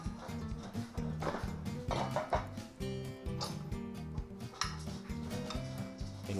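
Sweet potatoes in maple sriracha syrup get tossed around a baking tray, giving irregular clattering and scraping of utensil against metal pan beneath steady background music.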